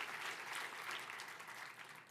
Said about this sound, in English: give yourselves another round of applause for the amount of work that you did to build these houses